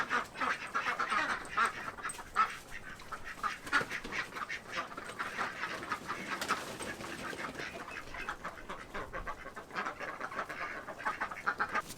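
Ducks kept in a backyard hut quack loudly and continuously, a busy overlapping chorus of calls close by with no talking.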